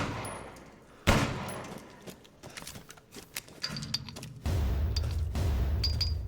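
Gunshots firing at targets in a video game, a sharp loud shot followed by a scattered series of quicker, fainter shots and clattering impacts, then a louder steady rumble.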